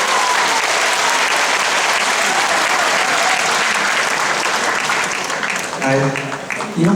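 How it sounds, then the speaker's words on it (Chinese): A concert audience claps in loud, sustained applause that fills the hall, fading slightly at the end as a voice begins speaking. "用你们最热情的掌声，"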